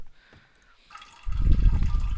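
A character drinks water in the survival game No One Survived: quiet at first, then a burst of gulping, splashing liquid fills the final second.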